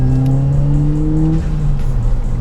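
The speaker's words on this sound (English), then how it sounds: "The exhaust system, although you can hear it now, you know, third gear" A Skoda Octavia vRS engine drones steadily at high revs in third gear, its exhaust note holding a throaty tone and shifting pitch partway through, loud and close.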